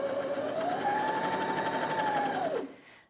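A Janome Sewist 725s sewing machine runs steadily at medium speed with a close, even mechanical whir and rapid stitching rhythm, then winds down and stops near the end.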